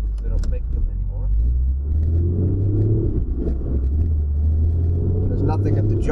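Loud Jeep Grand Cherokee with a 5-speed manual, heard from a front-mounted camera while driving, a deep, steady engine rumble with wind buffeting throughout, and someone talking over it.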